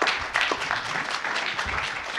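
Audience at a village board meeting breaks into clapping after a vote, a steady patter of many hands throughout, fairly close and lively, with a few louder bursts.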